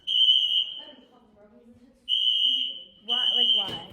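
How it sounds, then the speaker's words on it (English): A university dormitory fire alarm blares in loud, piercing tonal bursts, cutting off and restarting, while people talk between and over the beeps nearby. "This is now the second time the alarm is going off"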